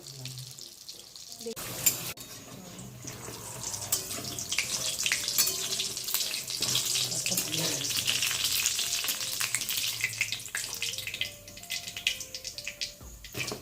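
Dense, crackling sizzle of battered potato chops frying in hot oil, steady and close throughout, with a brief clatter near the start.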